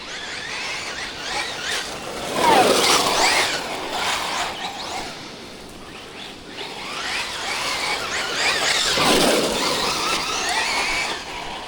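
A Tekno SCT410 2.0 RC short course truck drives hard, with loud electric motor whine rising and falling in sweeping bursts, mixed with tire scrub and gravelly skidding, close by and steady.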